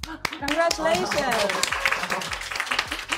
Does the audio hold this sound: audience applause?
yes